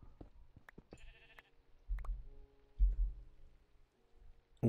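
In Minecraft, a sheep gives a couple of short bleats between soft clicks and a few louder thuds, fairly quiet with no talking.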